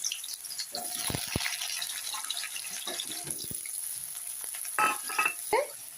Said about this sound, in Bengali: তেল গরম হয়ে গেছে, এখন আমি আলুগুলো দিয়ে দিব।